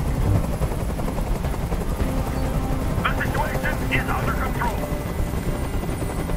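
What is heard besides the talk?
helicopter hovering in a video game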